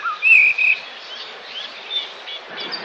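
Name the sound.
birds singing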